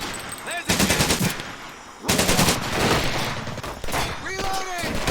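Machine gun fire in Medal of Honor: Pacific Assault: loud, close bursts of rapid automatic shots, separated by short pauses, with shouted voices mixed in among the gunfire.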